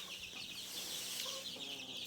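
Chickens clucking in a poultry room lit by a solar LED light, a dense continuous chorus of clucks and flock noise with no one talking.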